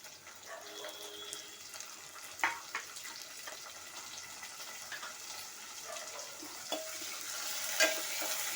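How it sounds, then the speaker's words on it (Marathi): Two finely chopped tomatoes sizzle in browned onion tempering for dal khichdi, a soft continuous frying hiss with occasional stirring scrapes and faint clinks, fairly quiet and without talk. "कांदा व्यवस्थित ब्राऊन झाला की त्यामध्ये मी हे 2 बारीक चिरलेले टोमॅटो घालते."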